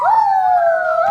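A voice imitates a wolf howl during a children's story reading. The single long tone swoops up, then holds steady and clear before trailing off.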